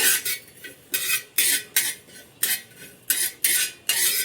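Cumin seeds are stirred in a hot, thick-bottomed pan, with a metal spoon scraping in brisk, regular strokes, about ten sharp rasping sweeps close up and no talking.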